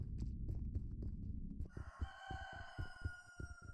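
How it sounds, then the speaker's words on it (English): A rooster crows in a video game, a loud, close cock-a-doodle-doo breaking over a low thudding background, followed by a sustained tonal note over rhythmic low pulses like a heartbeat. "Cock-a-doodle-doo."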